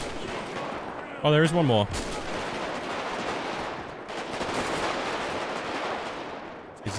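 Gunfire from shooting zombies in the modded GTA 5 zombie apocalypse game, a dense, steady crackle of shots filling most of the stretch, with a short burst of speech near the start.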